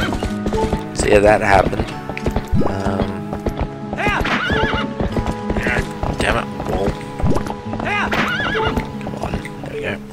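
A horse in The Legend of Zelda: Twilight Princess HD whinnies loudly several times while its hooves clip-clop in a steady rhythm, close and prominent, with someone talking over it.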